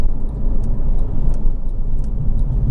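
A Honda Civic 2.0 i-VTEC Type R GT three-door drives at road speed and brakes, with loud steady engine and road rumble throughout and faint light ticks above it, heard from inside the car.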